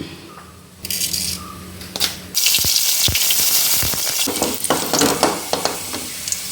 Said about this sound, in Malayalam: ഇനി നമുക്ക് ഈ തോരന് വേണ്ടിയിട്ടുള്ള കടു താളിക്കാം